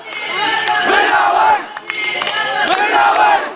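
A large crowd at a Pakistan Peoples Party election rally in Keamari district, Karachi, roars and chants in loud, sustained waves of cheering, with two swelling peaks.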